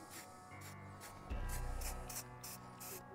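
A steady hissing spray from an aerosol can of undercoating applied to a Ford Bronco, pulsing in short bursts with brief pauses, close by, with no talking.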